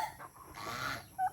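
Poultry calling nearby, a few short clucking and gobbling sounds with outdoor background noise.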